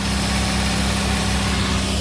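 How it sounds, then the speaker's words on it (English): An engine running on propane idles steadily in a fuel systems lab, giving a constant low rumbling hum with a faint vibration and no change in pace. "As you can see, the propane keeps the engine running."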